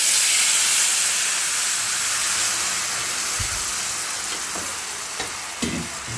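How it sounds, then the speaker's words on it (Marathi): Milk poured into roasted semolina (rava) in a hot pan sets off a loud, steady hissing sizzle that slowly fades, with a few soft clinks of stirring near the end and no talk. "आता त्याच्यात दूध टाकते."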